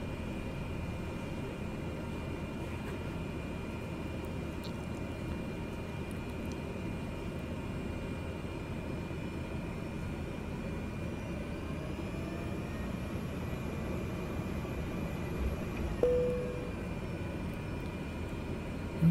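Cessna 208B Caravan turboprop in Microsoft Flight Simulator 2020 taxiing, a steady low engine drone and rumble holding constant throughout with no talk.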